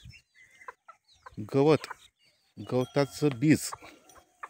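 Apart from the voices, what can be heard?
free-range country chickens and chicks clucking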